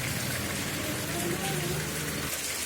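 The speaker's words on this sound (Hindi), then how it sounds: "देखिए मेरे ओर कितना बारिश हो रहा है। इतना बारिश देखिए।" Heavy rain pouring down outdoors, a dense continuous hiss of drops striking surfaces, loud and unbroken from start to end, with a low murmur faintly beneath it.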